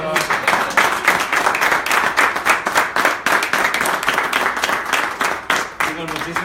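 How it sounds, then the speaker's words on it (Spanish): A crowd at a cocktail masterclass claps and applauds steadily with dense, continuous clapping, and voices talk through it. "vamos a dar un aplauso, chicos."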